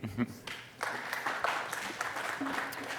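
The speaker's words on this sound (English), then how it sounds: "So a round of applause, please." A conference audience at JupyterCon applauds the two speakers from Databricks as they take the stage, a moderate roomful of clapping that swells after a brief pause, with some talking mixed in.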